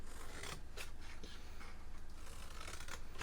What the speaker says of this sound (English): I'm going to just cut a sliver off of the side of each one